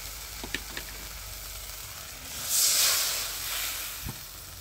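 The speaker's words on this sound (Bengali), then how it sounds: "তো এগুলো দিয়ে আমি ভালো করে কষিয়ে নিচ্ছি" Ground spices and salt fry in a kadai for a prawn malai curry, a quiet crackle with a few light clicks, then a swelling hiss of steam that slowly settles.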